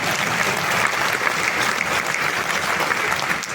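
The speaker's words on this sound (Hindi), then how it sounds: "अब लाभ होगा तो ताली बजाओ" An audience at a chamber of commerce annual conference bursts into steady, dense applause, loud and close, with no talk over it.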